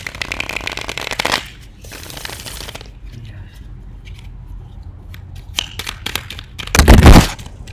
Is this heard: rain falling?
no